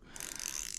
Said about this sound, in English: So I got this ratchet right now.